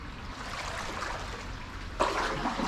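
Water pouring from a reservoir overflow into a canal tunnel in Birmingham, a continuous hissing rush that echoes slightly and swells a little louder partway through.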